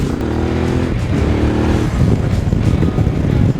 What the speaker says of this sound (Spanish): El escape suena muy bonito, se nota al dar el golpe de gas como suena muy bien